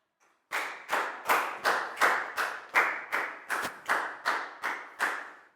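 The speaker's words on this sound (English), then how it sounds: "Big round of applause for Prow too, guys." A class of pupils claps in unison in a steady, evenly spaced rhythm of about a dozen sharp, loud claps, close and with no talking over them.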